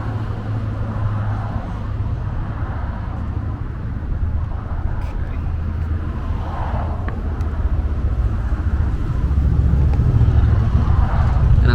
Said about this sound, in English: I'm sorry for the road noise.